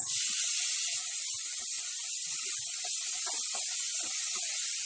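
Finely chopped onions, two medium ones, sauté over a low flame in a pan with cumin, giving a steady, bright hiss with scattered small crackles and pops throughout, alone without voices.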